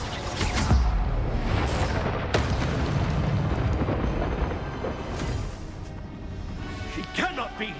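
A Depulso spell goes off in Hogwarts Legacy amid rapid spellcasting combat: a string of booming, explosive magical blasts with sharp cracks, along with shouted voices between the impacts.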